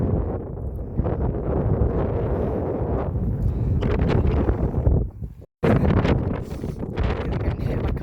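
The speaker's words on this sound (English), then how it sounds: "It's a bit windy again." Strong wind buffets the microphone on a hiking trail in the Scottish Highlands, in continuous gusty rumbles, briefly cutting out once before the roar resumes.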